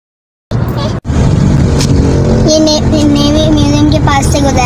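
Heavy road traffic near the PAF Museum in Karachi: a loud, continuous rumble of engines close by, briefly cut out early on, with tonal horn-like notes rising out of the din toward the end.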